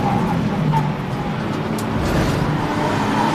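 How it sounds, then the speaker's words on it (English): Engine drone from an Audi TT or VW Golf TDI race car in the 750MC Birkett Relay at Silverstone GP, dropping a gear into Stowe corner, a steady onboard roar with no clear shift break. "We're going down a gear into Stowe."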